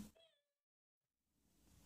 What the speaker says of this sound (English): Let's just see how he just sporadically meows and purrs.